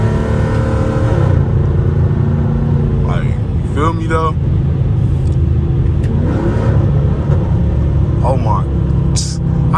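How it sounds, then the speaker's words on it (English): A catless Dodge Charger SRT accelerates on a late-night highway, a loud steady engine rumble and road drone with a few sharp popping exhaust crackles, while someone talks over it from inside the car. "Bro, I know y'all just heard them pops"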